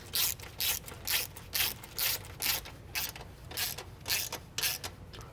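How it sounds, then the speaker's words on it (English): A hand ratchet clicks in short regular bursts while snugging forward subframe bolts on a BMW E90 M3, about a dozen close, crisp ratcheting strokes with brief pauses between them. "I'm choked up on this ratchet, I'm not having to force it"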